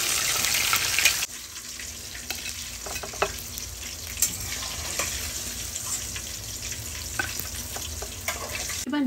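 Fish pieces for a Bengali korral fish curry frying in hot oil, a steady close sizzle with bright crackling and occasional stirring clatter, continuing alone without talk.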